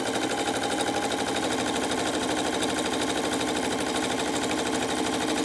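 A Janome Skyline S7/S9 sewing machine stitches steadily on embroidery stabilizer, a rapid, even mechanical chatter running unbroken at close range.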